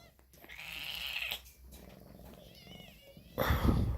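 A Burmese kitten purring softly up close, with a faint meow-like sound, while a person talks nearby and a louder rustling burst comes at the end.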